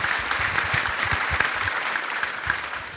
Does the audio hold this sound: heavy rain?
no